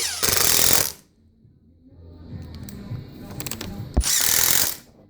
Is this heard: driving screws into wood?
yes